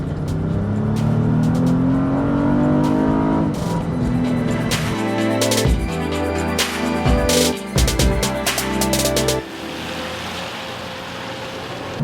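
A 2017 Acura MDX Sport Hybrid drives and accelerates, its engine tone climbing steadily and then surging through harder revving bursts, loud and close, before easing back to a steady road rumble.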